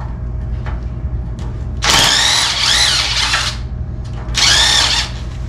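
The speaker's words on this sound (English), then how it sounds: "I decided to use the Gator Grip." A power drill spins a Gator Grip universal socket while floor parts come out of a Willys lowrider. It whines loudly in two sustained bursts over a steady low engine-like drone, close to the microphone and without talk.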